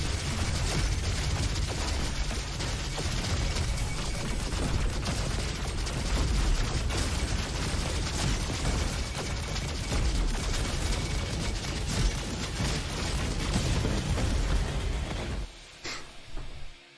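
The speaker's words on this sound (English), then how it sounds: "Rocket jump." Rocket jump explosions and heavy weapon fire in the shooter game Roboquest make a dense, loud, continuous barrage of blasts and mechanical clatter that cuts out abruptly near the end.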